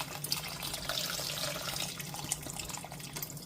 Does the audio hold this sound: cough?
no